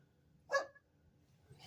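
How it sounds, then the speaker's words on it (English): A female dog gives a single short bark outdoors near a vehicle under repair, fairly close but quiet, followed by near silence. "what are you barking at"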